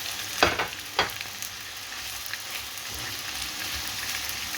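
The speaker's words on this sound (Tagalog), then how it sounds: "ilagay na natin ang ating kamatis" Tomatoes drop into a hot frying pan with chicken, giving two sharp hits followed by a steady, crackling sizzle and light stirring close by.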